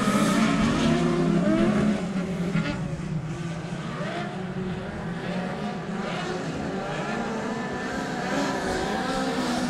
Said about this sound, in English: And it's three Hooses heading into the first corner.